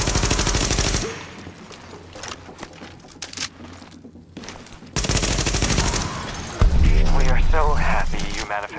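Shotgun blasts in The Division video game, heavy and loud, mixed with other gunfire and chaotic combat noise, with people talking over the action.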